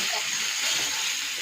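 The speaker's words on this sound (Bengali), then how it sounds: "এই তেলের মধ্যেই ফুলকপিটা ভেজে নেবো" Cauliflower fries in hot oil with a steady, dense hiss of sizzling that holds even throughout, fairly faint and close, with no talk.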